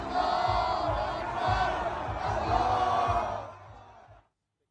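A large crowd at the Quds Day rally in Tehran roars and chants in unison, a loud dense mass of voices with rhythmic shouts that fades out abruptly near the end.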